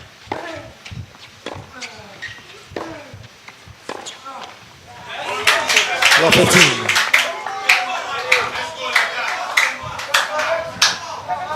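Sparse crowd at a Davis Cup tennis match in Nigeria breaks into scattered clapping that swells into steady applause, while a commentator speaks over it.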